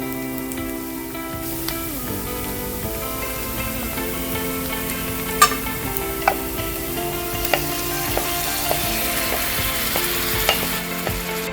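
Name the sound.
prawns frying in ghee with onions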